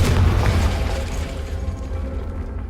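A Confringo fire spell bursts with a short, booming explosion in the game Hogwarts Legacy, loud at the start and fading into a low rumbling tail.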